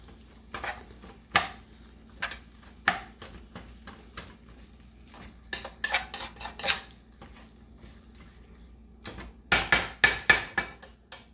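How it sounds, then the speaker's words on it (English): Ground turkey stirred in a frying pan with a spatula: sharp intermittent clinks and scrapes of utensil on pan over a faint low background, clustering into a quick burst near the end. "So I'm going to just stir that around so we don't let that burn."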